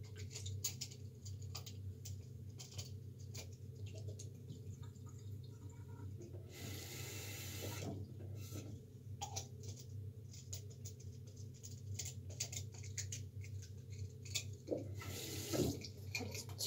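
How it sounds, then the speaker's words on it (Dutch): Fresh water runs from a kitchen tap into a sink during dishwashing, a steady low rush with patter and occasional clinks of dishes, fairly quiet and close, with no talking. "Vers water hierin."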